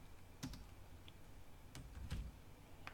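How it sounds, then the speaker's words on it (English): Sparse, faint keystrokes on a computer keyboard, a few scattered clicks over a quiet background with no speech. "you're going to type in keywords separated by commas"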